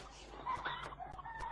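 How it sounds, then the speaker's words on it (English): Chickens clucking softly on a farm, several short irregular clucks at a distance, faint against a low background hum. "Hear the chickens?"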